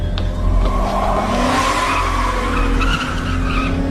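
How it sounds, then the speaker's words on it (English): A car skids with a long tire squeal before striking someone in a TV drama scene, the screech loud and sustained over engine noise for several seconds. "he was hit by a car with one of Klaus's hybrids behind the wheel"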